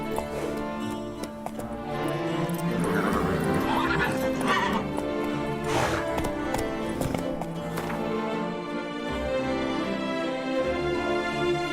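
Geralt's horse Roach in The Witcher 3 neighs loudly and whinnies amid trotting hoof clip-clops and a musical game score, the hoofbeats steady throughout and the whinnies rising in bursts near the middle.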